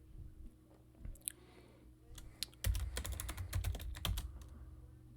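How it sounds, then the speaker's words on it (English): Computer keyboard keys are typed in quick bursts of clicks, close and clear, building into a dense run of keystrokes during password entry at a sudo prompt while installing VMware software. "we're going to have to type in the password to go into sudo"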